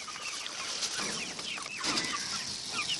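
Chickens in a poultry cage cluck and chatter at a moderate distance, a busy, overlapping layer of short calls over steady background noise, with no one talking.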